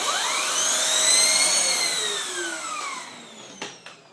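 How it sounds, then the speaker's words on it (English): Hoover SteamVac vacuum cleaner running at a loud, steady whine that rises and falls in pitch, then winds down with a couple of clicks at the end. "I have to vacuum the vacuum to get all the dirt off"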